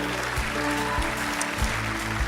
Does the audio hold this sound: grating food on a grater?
no